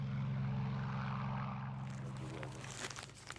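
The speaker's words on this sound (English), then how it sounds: "it's left to Charlie to pilot his plane home" A WWII Spitfire propeller plane flying overhead, a steady droning engine hum that thins out as noise and clatter take over near the end.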